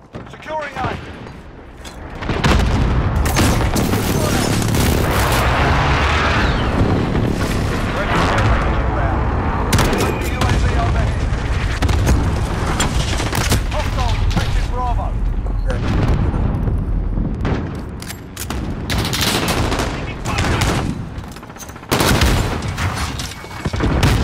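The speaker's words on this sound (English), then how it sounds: "Must be advised, friendly precision airstrike." In the video game Call of Duty: Modern Warfare, a precision airstrike brings loud, sustained rumbling explosions layered with rapid gunfire bursts that continue almost without pause, with sharp shots recurring toward the end.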